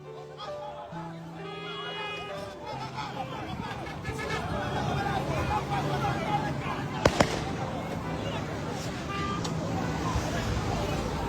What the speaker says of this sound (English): Soldiers are shooting on us.